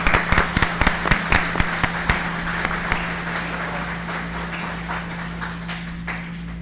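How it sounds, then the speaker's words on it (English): At a school board meeting, a small crowd gives a brief round of scattered claps that thin out and fade over a steady room hum. "thank you for those kind words, and a round of applause"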